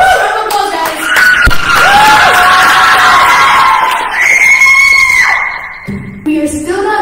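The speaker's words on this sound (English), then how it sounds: "Round of applause, guys!" A crowd at a school fundraiser event cheering, screaming and shouting loudly, with excited voices and whoops swelling over several seconds, then a short lull and renewed yells near the end.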